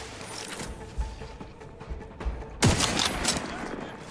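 Sporadic gunshots from weapons in The Outer Worlds 2 during a station assault, a few scattered reports followed by a louder burst near the end, mixed with game ambience and some speech.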